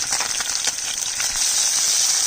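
Tengra fish fry in a hot pan with a loud, continuous sizzle, a steady bright hiss that stays even with small crackles throughout.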